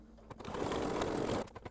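Computerized embroidery machine stitching black hat fabric down onto a hooped mug rug, a steady rapid mechanical chatter running for over a second before stopping, followed by a few faint clicks.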